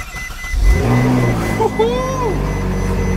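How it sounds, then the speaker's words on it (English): A Ferrari 458 Spider engine cranks and catches, then revs up loudly and settles into a throaty idle, with a voice speaking briefly over it. "first time ever starting a Ferrari"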